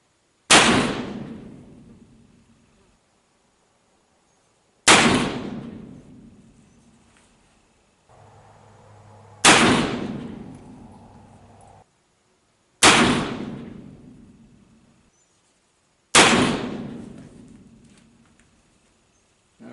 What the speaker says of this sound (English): Okay, we've shot 6.